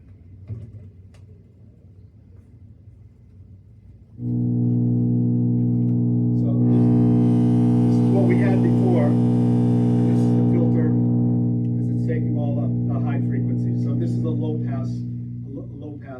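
Modular synthesizer tone shaped by a filter: a steady buzzy drone enters after a quiet start, then its brightness swells and wavers as the filter is swept, loud and close.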